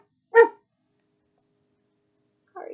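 A human voice imitates a dog's big echoing bark with one loud, short bark, a pause of silence, then a softer second bark-like sound at the end.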